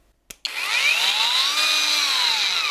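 A WOSAI cordless angle grinder clicks on and spins up into a steady high-pitched whine with shifting tones, loud and close, with no talk over it.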